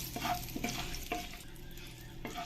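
Whole spices, cumin, bay leaves and dry red chillies fry in hot oil for an Indian egg curry, a steady close sizzle broken by a few scraping stirs, with no voices.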